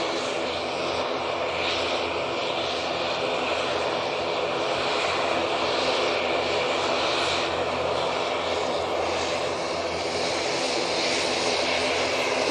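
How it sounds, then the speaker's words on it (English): Propeller aircraft engine running steadily at a busy airport, a loud continuous drone with a rough, throbbing roar that holds at near-constant level throughout, no talk over it. "And some prop action for you."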